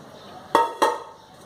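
Two sharp metallic clinks a quarter second apart as a mesh steaming attachment is fitted into the base of a rice cooker, close and distinct over a quiet background.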